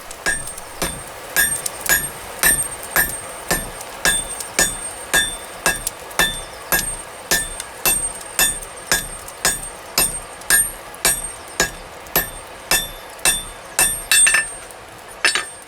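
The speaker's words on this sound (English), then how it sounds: "the weld is firmly beaten into existence" Hand hammering a San Mai knife billet during a forge weld, steady rhythmic metallic blows ringing on the anvil about twice a second, close and sharp, continuing without pause and without talking.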